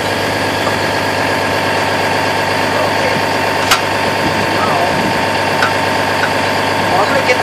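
An engine runs steadily at idle to drive a pump drawing oil from a tank, a loud continuous mechanical drone with faint knocking and vibration throughout, plus a few sharp clicks.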